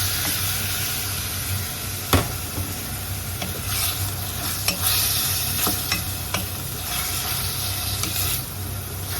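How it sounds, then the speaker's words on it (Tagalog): Chicken meat stirred in a pot for Filipino chicken sopas, a steady sizzle and hiss with repeated clanks and scrapes of the spoon against the pot. "ilagay na natin yung ating chicken meat."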